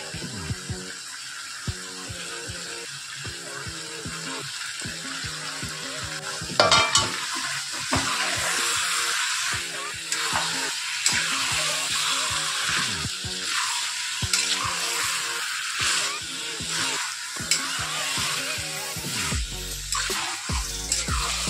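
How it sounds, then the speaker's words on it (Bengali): Chicken pieces stirred and tossed with spices in a hot pan for a Bengali lemon-leaf chicken kosha, with steady sizzling and frying under repeated scraping and stirring strokes, close and continuous, with no talking. "মশলার সাথে আমি মাংসটা এবার ভালো করে মিশিয়ে নিয়েছি"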